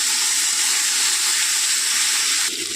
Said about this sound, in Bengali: এটাকে ভালো করে নাড়াচাড়া করে নেবো, একটু লাল লাল করে ব্রাউন করে ভেজে নেবো